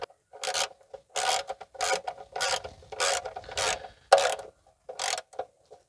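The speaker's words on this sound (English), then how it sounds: "I'm just going to snug tight the oil drain plug" A wrench tightens the oil drain plug back into the L98 engine of a C4 Corvette during an oil change, making close rasping ratchet clicks in about eight short, evenly spaced bursts, with no talking.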